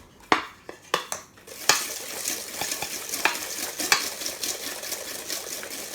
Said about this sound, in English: Let's go ahead and whisk this well.